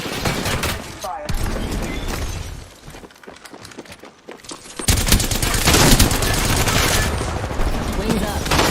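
Rapid gunfire bursts in the battle royale game Apex Legends, dense automatic fire and cracking impacts, close and loud, easing to a quieter lull mid-clip before a heavy continuous barrage resumes, with a player's voice over it.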